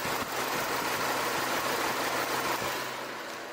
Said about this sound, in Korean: 엔진 소음을 먼저 들려드리면은